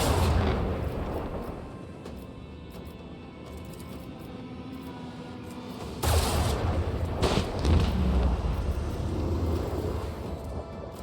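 Gunfire and artillery from the video game Warhammer 40,000: Rogue Trader, a dense, continuous barrage of booming blasts and crackling shots that swells louder about halfway through, with no talk over it.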